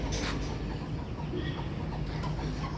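A large chicken at a bird park in Trichy clucks in a steady, busy din of fowl, with continuous low-level noise and no clear speech.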